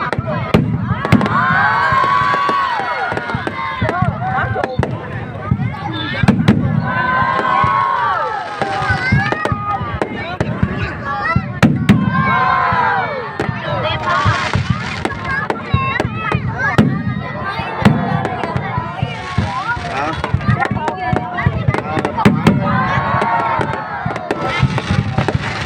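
New Year's Eve fireworks burst continuously at a Tet 2025 celebration, a loud dense barrage of sharp cracks and pops over a noisy crowd, with people chattering and shouting throughout.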